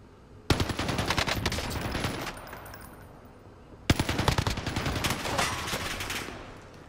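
Gunfire in the video game Warzone: two sudden, loud bursts of rapid automatic fire, each rattling on for a couple of seconds and then tailing off, with no talk over them.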